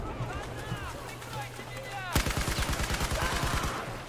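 Rapid gunfire in the Battlefield 4 campaign: a sharp burst at about two seconds opens into a steady, loud stream of automatic shots, with faint earlier pops and a voice talking over the fighting.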